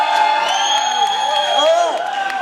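A crowd at a startup pitch and demo event cheers and whoops loudly, with overlapping shouting voices and scattered claps.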